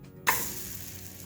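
Wet naan dough meeting a hot iron tawa bursts into a sudden loud sizzle after a brief quiet, then settles into a steady close hiss that holds to the end.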